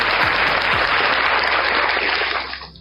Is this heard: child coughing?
no